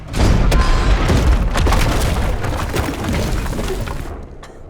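A tank cannon fires in a war film, a loud, close, booming blast with heavy low rumble that rolls on for several seconds before dying away.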